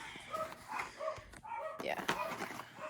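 Dogs bark and yip in short bursts indoors, several sharp barks spread across the moment with some overlapping talk and background rustling.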